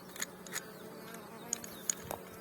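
Honey bees crowd around a newly introduced fertile queen in a hive with a drone-laying colony, giving a faint, continuous buzzing hum. A few sharp clicks and taps break through.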